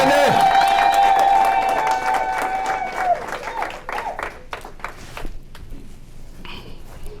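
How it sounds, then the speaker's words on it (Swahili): Wedding guests clap in a burst of applause that starts over loud music and dwindles to scattered claps, with a voice speaking over it. "Tubachapie makofi, tubakaribishe bien bien."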